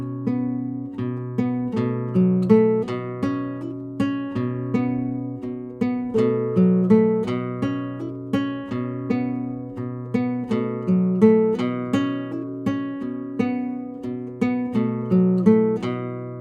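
Guitar plays a Tuareg-style riff built on an irregular pedal tone from a song, with plucked notes repeating in a steady, looping groove, close and clear, alone with no talking.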